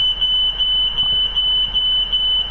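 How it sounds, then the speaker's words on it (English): A smoke alarm goes off indoors, a loud, piercing chirp repeated in quick, regular pulses without a break, with no voices over it. "Go and turn that fire alarm off."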